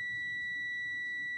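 Multimeter continuity beep from testing the seat belt switch on a Lexus RX300, a steady pure tone held for the whole clip at moderate level, with no talking.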